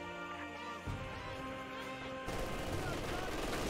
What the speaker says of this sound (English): Double machine guns opening up here.